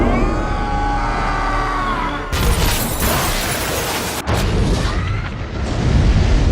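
The Bifrost bridge in the film Thor is destroyed with an explosion. A rising tonal build gives way to a loud roaring burst, then a second blast follows, and crashing rumble continues to the end.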